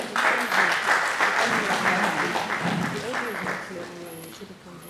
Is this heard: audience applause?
yes